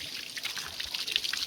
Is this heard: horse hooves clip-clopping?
no